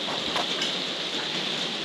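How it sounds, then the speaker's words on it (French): Steady rain falling outdoors, a dense even hiss of drops hitting surfaces, close and continuous with no voices over it. "Ouais, il pleut."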